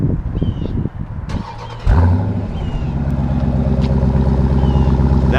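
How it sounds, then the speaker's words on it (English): A 2018 Dodge Durango SRT engine fires up after a few brief clicks and knocks, then settles into a loud, deep, steady idle that holds close and strong to the end, with no talking. "I'll just give you an example of what it sounds like."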